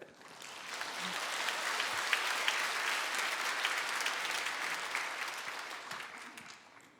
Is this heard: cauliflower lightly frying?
no